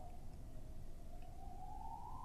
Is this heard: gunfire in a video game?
no